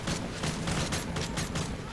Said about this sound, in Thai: ปืนโคตรหนักครับบอกเลย เสียงนี่ก็รู้แล้วว่าหนักยังไง